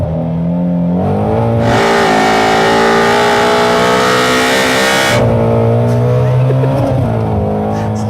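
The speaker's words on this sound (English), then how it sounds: "I'm just gonna let you hear the engine." A 2016 Ford Mustang Shelby GT350R engine revs hard, climbing to a loud, sustained high-pitched wail for several seconds before dropping back to a deep, throbbing idle.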